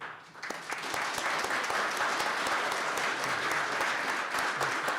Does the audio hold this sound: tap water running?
no